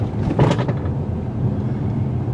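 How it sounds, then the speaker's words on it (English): A toolkit rattles loose in the boot of a 2021 Mercedes-AMG GLA45 as the short-wheelbase car crosses a speed hump. A brief clattering burst rises over the continuous low road rumble, and nobody speaks. "the rattling noises you hear is the toolkit I've got in the back"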